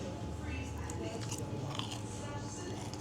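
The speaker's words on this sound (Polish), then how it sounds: "Chrupie w ustach." Crunchy breaded Polish pork cutlet (schabowy) being bitten and chewed at close range, with steady crackly crunching throughout and no clear talk over it.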